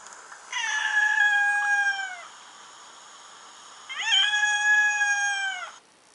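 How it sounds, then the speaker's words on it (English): Two long, clear meows from a cat sound effect in the NYAN cat phone app, each lasting over a second and separated by a short pause, with nothing else underneath. "the most important thing about this app is the cats."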